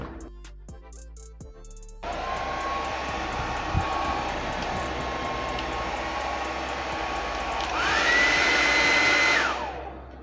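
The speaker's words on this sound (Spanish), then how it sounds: "ya estamos listos con la reparación de este secador de cabello" A repaired Revlon hair dryer switched on during testing, a steady loud whooshing fan with a motor whine that rises when a higher setting is selected near the end, then shuts off; a few clicks come before it starts.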